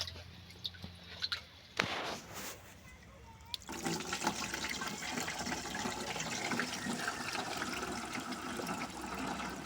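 Water flowing at a natural spring, a continuous close rushing and splashing that starts after a few seconds of quieter trickling, dripping and handling noises.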